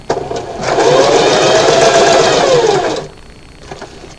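A sewing machine stitching fabric runs at a steady whirring pace for about two and a half seconds, close and loud, then stops, leaving faint quiet clicks.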